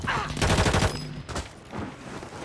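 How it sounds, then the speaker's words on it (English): Gunfire in Call of Duty Warzone 2 on Rebirth Island: a rapid automatic burst fills the first second, then scattered shots and game noise continue with faint talk underneath. "You shooting there, Gary?"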